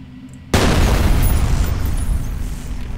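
Mines blowing up after being shot in the shooter game F.E.A.R.: a sudden heavy boom that lands about half a second in, then a loud rumbling blast tail that rolls on and slowly fades.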